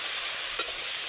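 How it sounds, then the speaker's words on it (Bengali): Fish-oil curry being stirred in a wok: a steady, close sizzling hiss with two quick scraping knocks of the spoon in the middle of a brief moment. "আবারও দুবার মতো নেড়ে নেব।"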